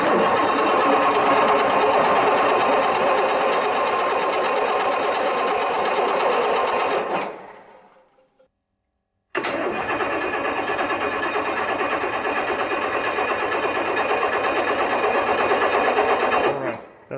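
A Mercedes engine mounted on a table runs loud and steady under throttle, cuts out for about a second, then fires back up and runs hard again before dropping off at the end.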